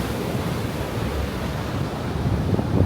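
Surf at Canggu beach in Bali rolls in as a steady, broadband wash of breaking waves, constant and fairly loud with some wind buffeting, swelling slightly toward the end, with no voices.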